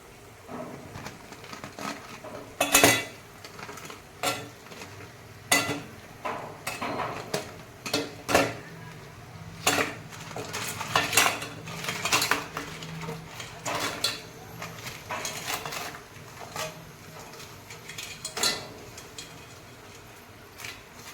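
Crabs tipped into fried masala paste in a pot and stirred, giving scattered sharp clinks and scrapes of a utensil against metal with soft shuffling between, fairly quiet and close.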